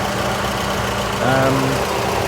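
Engine of a Ford Orion Ghia ticks over at idle with a steady low hum and a slight rise partway through. Nothing else is heard over the running engine.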